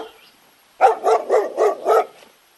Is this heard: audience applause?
no